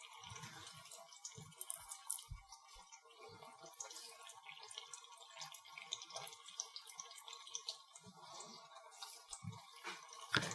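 Boiling lollipop candy mixture bubbles steadily in a pot, a continuous close stream of small pops and crackles with occasional louder plops, heard alone without speech.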